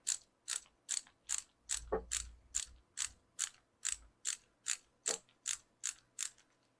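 A corroded part is backed out of a hedge trimmer with a ratchet: a steady run of about fifteen crisp, evenly spaced clicks, close and clear, with no voices.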